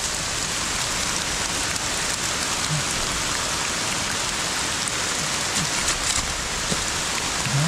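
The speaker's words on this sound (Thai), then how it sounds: "กลางฝนเลย" Heavy rain pours down steadily during a rainy-day hunt for termite mushrooms, a dense, close, unbroken hiss of drops that carries on without pause.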